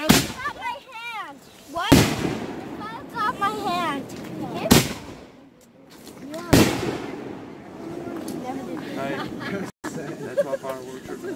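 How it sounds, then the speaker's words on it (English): Fourth of July fireworks crack and boom in a few sharp bursts spaced seconds apart, while people chatter and shout throughout. "That's my fireworks."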